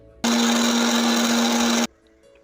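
Mixer grinder whirring through garlic, ginger and chili to make a spice paste: a loud, steady motor drone that starts abruptly, runs for about a second and a half, then cuts off sharply into quiet.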